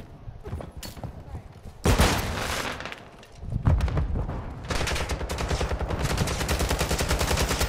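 Sustained automatic gunfire and sharp shots in Call of Duty MWII multiplayer, loud bursts starting abruptly and continuing as rapid rattling fire with a brief lull midway, game voice chatter mixed in.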